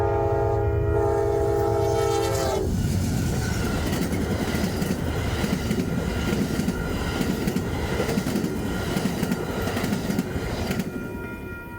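An Amtrak passenger train with single-level Viewliner and bi-level Superliner cars; a loud, sustained horn blast for a couple of seconds gives way to heavy rolling rumble and rhythmic wheel clatter that continues up close.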